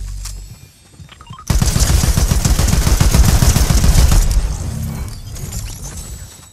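Gunfire in the Fortnite video game: after a quiet start, a sudden loud burst of rapid automatic shots rattles for several seconds before tapering into fainter noise.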